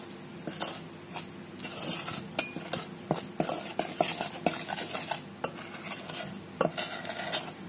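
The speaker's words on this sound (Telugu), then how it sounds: "పిండి కలిసే విధంగా కలుపుకోండి." A spoon stirs rice flour into hot sugar syrup in a pan for chalimidi, a sweet prasadam. The stirring is close and steady, with repeated scraping and clinking against the metal pan and no talk.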